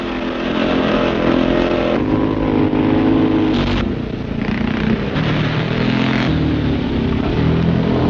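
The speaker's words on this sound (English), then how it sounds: "is to ride his bike over any rough ground he can find" A scrambling motorcycle of the 1960s rides over rough ground in an Essex gravel pit, its engine revving and roaring continuously close by with rising and falling throttle surges.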